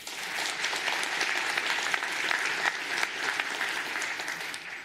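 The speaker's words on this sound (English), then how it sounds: "I saw the same people applauding twice." Steady, dense applause from a C++ conference audience voting for metaclasses at an opening keynote, many hands clapping evenly and moderately loud throughout with no voices over it.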